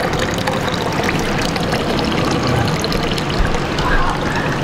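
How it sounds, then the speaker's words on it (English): Small water fountain at Kochi Castle in Japan, a steady pouring trickle of water running continuously and fairly loud up close, with faint voices in the background. "And then you got this little cool little water fountain."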